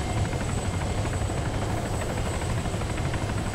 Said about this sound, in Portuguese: Tem mais um helicóptero à nossa direita.